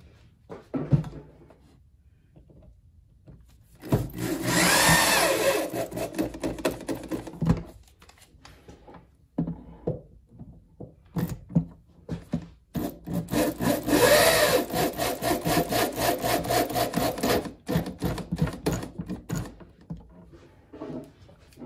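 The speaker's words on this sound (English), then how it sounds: "So now let's screw it in." A power driver whirs in two long bursts, grinding a screw into white oak, with scattered clicks and handling knocks between them.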